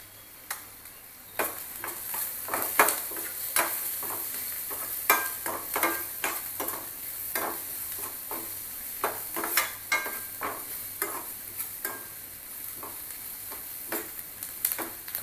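Onions sautéing in a pan with asafoetida and turmeric, a steady sizzle broken by frequent sharp clicks and scrapes of a spoon stirring, close and fairly quiet, with no talking.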